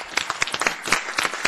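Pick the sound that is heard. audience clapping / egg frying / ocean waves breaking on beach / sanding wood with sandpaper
audience clapping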